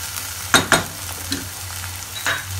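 Ginger garlic paste fries in a pan while being stirred, giving a steady close sizzle with a few sharp scraping strokes of the spoon.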